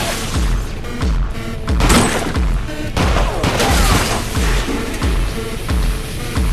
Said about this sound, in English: We engaged in a fierce gunfight in the hospital corridor.